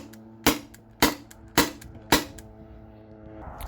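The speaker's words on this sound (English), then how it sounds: "I'm just gonna shoot all the rounds out of it, shoot all the air out of it." A modified T4E TR68 paintball marker running on CO2 fires four sharp, loud shots spaced about half a second apart, each with a short metallic ring, followed by quiet hiss and handling noise.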